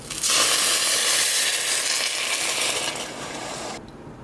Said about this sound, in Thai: เมื่อไข่สุกได้ที่1ด้านแล้วก็จะกลับมันนะคะ